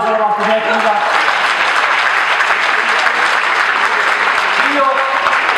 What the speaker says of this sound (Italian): Facciamo un applauso alla nostra tecnica.